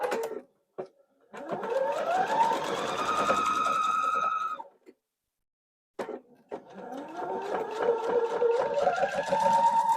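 Sewing machine stitching a quilt block, two close whirring runs that rise in pitch as the motor speeds up, separated by a short silent pause.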